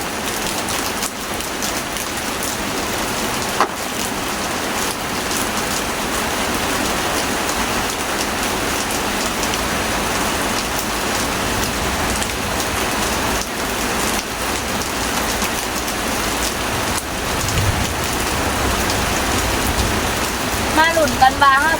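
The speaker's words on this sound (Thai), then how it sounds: "บรรยากาศฝนตกปล่อยๆ นะจ๊ะ" Steady rain pours continuously onto a hard surface, a dense even patter with occasional louder drops near the end.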